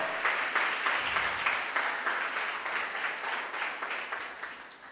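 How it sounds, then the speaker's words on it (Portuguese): A church congregation applauding during a sermon, sustained dense clapping from many people in a reverberant hall, steady for several seconds and fading slightly toward the end. "Você pode aplaudir o nome do Senhor."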